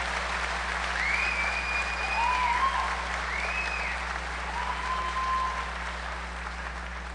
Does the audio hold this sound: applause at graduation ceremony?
yes